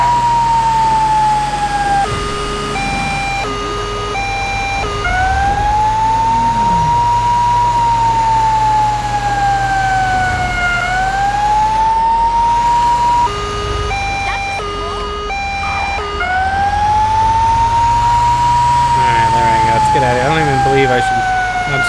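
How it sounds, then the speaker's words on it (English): A wailing fire engine siren from a retro Squad 51 fire truck in GTA V, loud and continuous, sweeping slowly up and down with an engine rumble beneath and someone talking over it. "I'm just gonna keep it on this siren"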